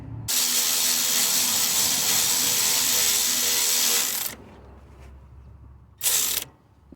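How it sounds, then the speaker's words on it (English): A ratchet tool tightens the timing belt tensioner on a Toyota Camry 2.2 engine, giving a loud, dense, continuous ratcheting buzz for about four seconds, then quiet, then a short second burst. "I'm gonna start tightening over here"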